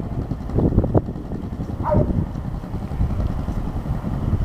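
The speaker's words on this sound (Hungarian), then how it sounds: "végigvezetjük a motort, majd megállunk" Motorcycle engine running steadily during a riding-test exercise on a training course, a continuous low drone with a brief rise in pitch near the middle, moderately close and alone.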